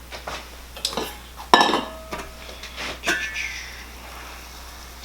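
A fork stirs chicken and rice in a pan on the stove, giving a few sparse metallic clinks and scrapes, close and fairly quiet, with gaps of near silence between the strokes.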